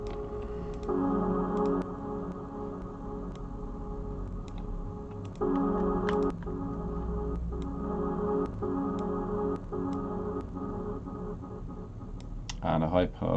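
Synthesized tones with an echo effect in a 3D synth app, notes entering in repeating blocks with trailing repeats, accompanied by soft clicking like screen taps or keys throughout.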